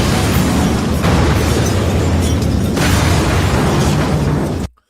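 A movie explosion effect, built partly from a recorded popped can, bursts as a loud, sustained roaring boom that rumbles for several seconds and then cuts off abruptly.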